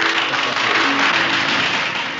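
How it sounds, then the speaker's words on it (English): Theatre audience applause fills the space as a steady, dense wash of clapping that runs unbroken and evenly loud from start to finish, with no voices standing out. "And wrap it all up in the warmth of applause."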